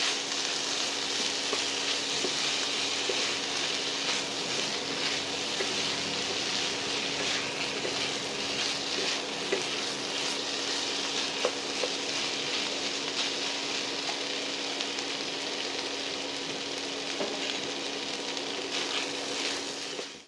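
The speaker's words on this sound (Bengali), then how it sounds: "চালটাও একটু ভাজা ভাজা করতে হবে।" Steady crackling sizzle of rice frying in a pan for meat khichuri, with occasional faint clicks of stirring, no voices.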